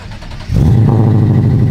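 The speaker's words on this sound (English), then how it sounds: "Oh man, dang, it sounds good in idle" Deep, steady engine rumble from a 450 hp Lexus IS F, swelling within the first half second and holding a loud, throaty idle close by.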